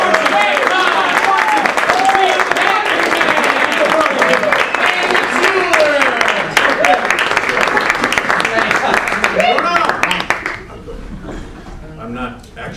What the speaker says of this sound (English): So one more time, big applause.